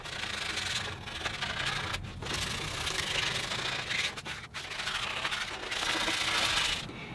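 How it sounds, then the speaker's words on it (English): Sandpaper rubbed by hand along the edges of a wooden guitar side bender, a continuous close scratchy rasp in steady strokes with a few brief pauses, no voices. "Now I'll grab a piece of sandpaper and just run around all of the edges"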